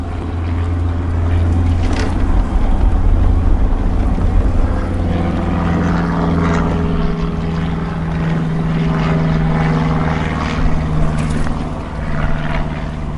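A Permobil M3 power wheelchair drives onto grass. Its electric drive motors give a steady, loud low hum and whine with a rumbling undertone that rises slightly and then settles.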